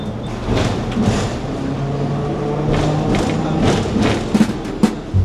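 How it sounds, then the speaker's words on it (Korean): A double-decker tram in Hong Kong rolls along with a steady low rumble, soft thuds and a few sharp clacks and knocks, heard from on board. "2층 버스는 타봤어도 2층 트램은 처음 타보네요"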